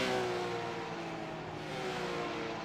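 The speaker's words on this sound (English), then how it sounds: "you can hear the wheel spin as Alex tries to get the power down." A GT3 race car's engine roars under power while its wheels spin as the driver tries to put the power down, a close, sustained, slightly wavering engine note lasting under three seconds.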